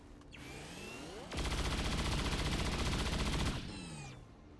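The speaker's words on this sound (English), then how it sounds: "just shoot him now" Gunfire from the XCOM 2 Long War of the Chosen game: a sustained, loud burst of rapid automatic shots lasting about two seconds, framed by whooshing, sweeping game effects before and after.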